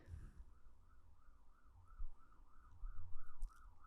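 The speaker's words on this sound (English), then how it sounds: "The sirens." A wailing siren rises and falls in steady cycles at moderate distance, with low traffic rumble underneath.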